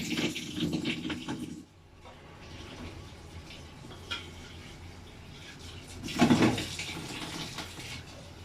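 Water splashes and pours into a pot of chickpeas for Egyptian koshari in two short bursts, with a quieter stretch of faint running water between them, close by.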